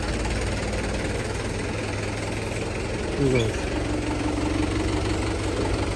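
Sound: tractor engine idling

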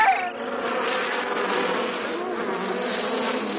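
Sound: swarm of cicadas buzzing in cartoon

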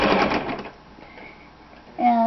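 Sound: sewing machine sewing lace along a seam

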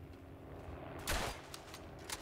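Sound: gunfire in the video game Verdun

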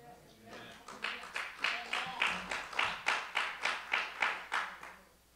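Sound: congregation clapping hands in church

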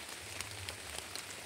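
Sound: heavy rain while camping

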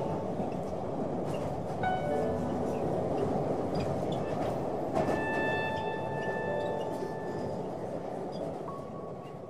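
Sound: subway train running

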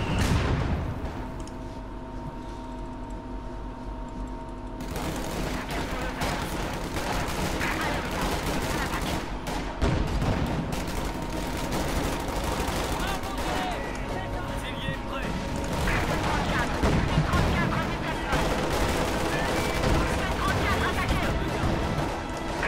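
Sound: mortar and gunfire in video game Company of Heroes 2

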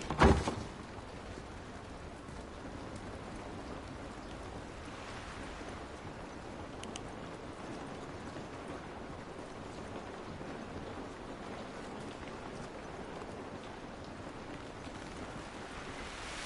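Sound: rain and thunder in the video game The Last of Us

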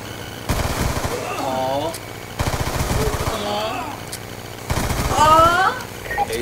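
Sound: Kap-40 pistol gunfire in video game Call of Duty Black Ops 2

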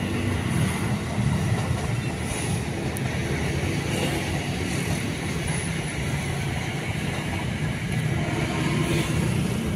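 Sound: passing train

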